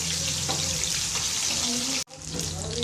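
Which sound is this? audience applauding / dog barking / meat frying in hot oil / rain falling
meat frying in hot oil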